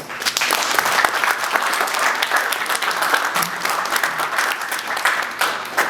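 Steady applause from a crowd at a high school football signing event, many hands clapping continuously at an even, lively level.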